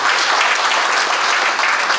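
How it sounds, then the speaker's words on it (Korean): Dense, steady applause from an audience at a joint wedding ceremony event in Incheon, continuous broadband clapping throughout with no talk. "박수"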